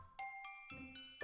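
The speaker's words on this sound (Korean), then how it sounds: "알람을 중단해요." A phone alarm chimes in short bright bursts, several tinkling ding tones with a lower tone joining partway, close and clear with no talking.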